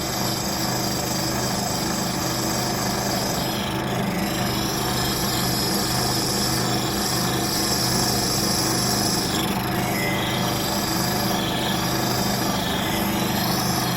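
A Record Power sharpener grinds woodturning tools at fast speed, a loud continuous motor whine with rasping abrasive contact swelling and easing across the whole stretch, close by and with no talking.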